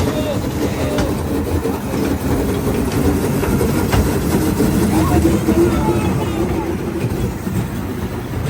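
A small farm-themed tourist train runs through a city park, its steady rolling rumble and rattling carriages continuous and fairly loud, with background voices and park ambience mixed in.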